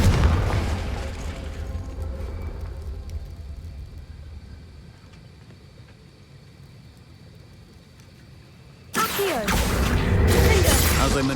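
A Confringo fire spell in Hogwarts Legacy bursts with a sudden loud blast near the end, after a low rumbling stretch of ambient game sound.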